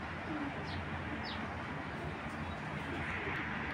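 A pair of pigeons coos softly, with low, repeated calls half buried under a steady wash of background noise that runs the whole time.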